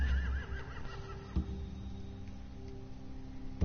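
Horses neigh in The Walking Dead video game, a whinnying cry near the start set against a steady low game soundscape, with short thumps around the middle and the end.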